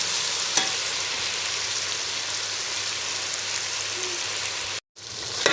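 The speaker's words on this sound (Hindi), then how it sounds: "5 मिनट तक फ्राई करेंगे हम इसे।" Tomatoes frying with mutton in a pot for namkeen gosht give a loud, steady sizzle and crackle that runs unbroken, with a brief cut near the end before resuming.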